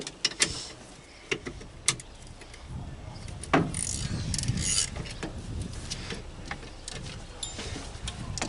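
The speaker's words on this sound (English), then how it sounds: "Then we take a ratchet" Ratchet wrench clicking while tightening on a Volkswagen Rabbit master cylinder, a few sharp ticks followed by a steady run of fast mechanical clicking in a quiet garage.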